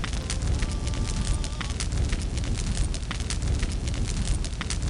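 A castle burning in Minecraft gives a steady, dense crackling roar of flames with sharp pops scattered throughout, continuous and fairly loud for the whole stretch.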